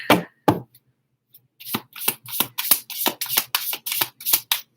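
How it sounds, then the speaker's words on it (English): A tarot deck being shuffled: a quick run of crisp, rhythmic riffling bursts after a couple of brief taps, close and fairly loud. "Just a little bit more shuffling here."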